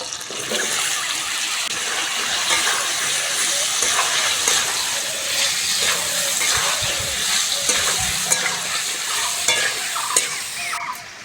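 Cut, washed potatoes hit hot oil in a pan and sizzle steadily, a continuous bright hiss with occasional scraping and stirring clatter, close and loud with no speech.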